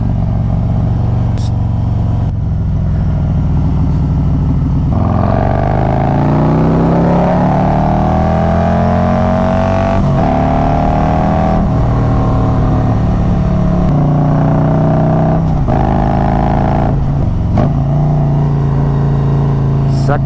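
Stage 2 Harley Road Glide motorcycle with a Khrome Werks Outlaw exhaust riding, its deep engine note rising and falling through gear changes, loud and close throughout with wind noise.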